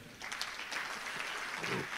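Audience applause at a panel discussion on rebalancing boards, a short burst of many hands clapping at a steady, fairly loud level.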